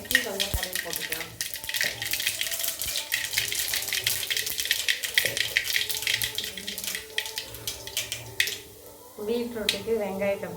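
Mustard seeds crackle and sizzle in hot oil for tomato pachadi, a dense, steady frying hiss with scattered sharp pops running throughout, briefly dipping near the end before resuming.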